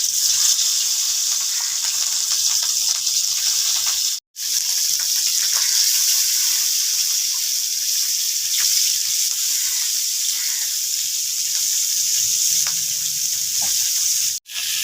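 Rohu fish frying in hot mustard oil gives a loud, steady, close sizzle that runs unbroken except for two abrupt momentary drops, with no talking.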